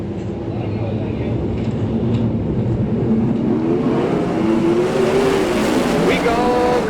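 NARC California Lightning sprint cars take the green flag at Bakersfield, California, their engines roaring and rising in pitch together as the pack accelerates, with an announcer talking over the race noise.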